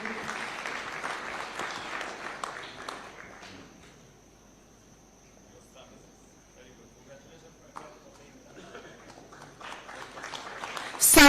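Scattered clapping from a crowd swells, fades to a few claps, then builds again toward the end, with a steady high tone in the background.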